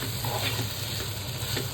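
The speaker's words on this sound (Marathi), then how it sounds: "लसूणची पेस्ट टाकून कांदा आपला गोल्डन ब्राऊन झाला आहे ऑलमोस्ट." Onion with ginger garlic paste and green chili fries in a pan, a steady close sizzle with soft scraping as it is stirred.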